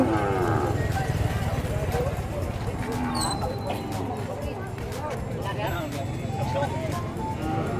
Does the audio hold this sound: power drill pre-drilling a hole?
no